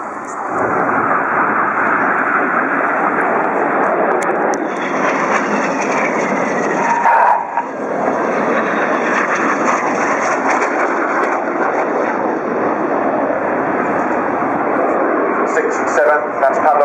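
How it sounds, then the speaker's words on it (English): Jet display aircraft pulling a hard, high-g turn at maximum performance during the Farnborough air show, a loud sustained engine roar filling the whole stretch while a commentator talks over it. "that's Pablo and Monty flying the aircraft at maximum performance here around the corner, probably pulling about 6G here"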